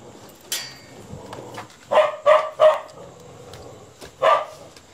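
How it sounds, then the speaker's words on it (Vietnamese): A dog barks outdoors near a house, a cluster of three sharp barks followed after a pause by another, fairly close and loud above quiet background noise. "thấy các em là chó nó sủa ghê quá"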